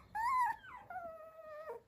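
A small stray Teddy-mix puppy whimpers up close in two drawn-out, high whining cries, the first rising and wavering, the second falling and trailing off.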